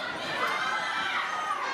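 A packed wrestling crowd at an Armed Forces Championship match chants in a dense, sustained roar that fills the arena evenly with no breaks.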